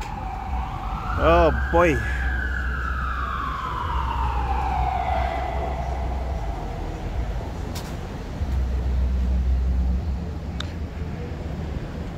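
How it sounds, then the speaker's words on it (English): Fire truck and ambulance sirens wail loudly nearby on a downtown Toronto street in winter, one sweeping slowly up and down while another yelps in quick bursts, over steady traffic rumble and a brief voice. "All the noise. Fire trucks, ambulance, cars with too much music."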